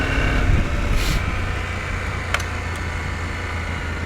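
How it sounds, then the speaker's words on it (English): A 2024 KTM 890 Adventure R motorcycle riding off-road on dirt, its engine a steady, fairly loud broadband roar with a low rumbling drone throughout and a brief sharp tick partway through. "Dirt bike riding."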